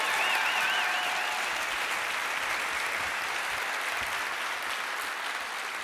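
A theatre audience at an Ignite Phoenix evening in the Scottsdale Center for the Performing Arts gives the presenters a long round of applause, a dense, continuous crowd clapping that slowly thins toward the end.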